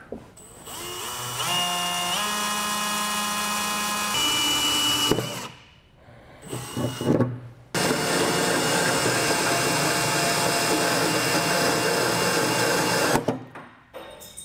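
A power drill bores through the aluminum truck bed of a 2018 Ford F-150, with a loud whining motor, a short pause and stutter mid-way, then a long steady grinding run before stopping.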